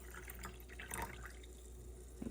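Liquid pours steadily into a sink, a soft continuous splashing with a few drips near the end, close by and fairly quiet.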